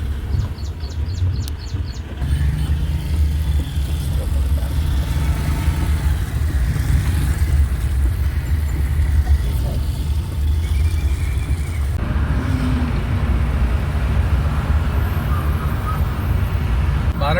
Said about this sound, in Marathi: उड्डाणपूलचं काम चालू आहे इकडे, त्याच्यामुळे ट्रॅफिक झालेलं आहे.